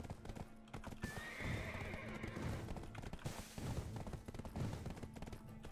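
Horse in the online game Black Desert Online, with steady clip-clop hoofbeats and a clear neigh partway through, heard near and moderately loud over background game sounds.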